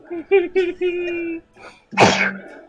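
After a few seconds of someone talking, a single sharp, close sneeze bursts out near the end.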